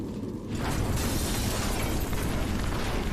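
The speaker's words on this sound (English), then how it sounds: "a massive explosion swallows everything" A sudden roaring blast erupts into a sustained, rumbling wall of noise, loud and dense for several seconds.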